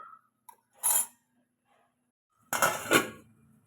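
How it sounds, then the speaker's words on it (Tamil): Two metallic clanks a moment apart as a lid is placed on a cooking pot of simmering fish curry, a short clink and then a louder rattling clatter of metal on the pot, in an otherwise quiet room. "ஒரு மூடி போட்டு மூடி வச்சிடலாம்"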